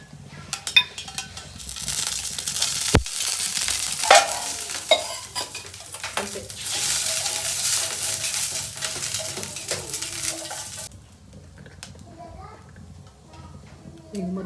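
Green chillies frying in a pan for peanut chutney, with loud sizzling and crackling that swells and fades, interrupted by clanks and stirring scrapes, while someone talks over the cooking.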